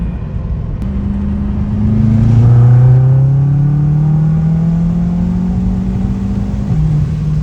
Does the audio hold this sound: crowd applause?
no